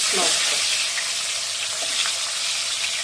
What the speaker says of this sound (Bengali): পেঁয়াজের ফোড়নটা দিয়ে দিলাম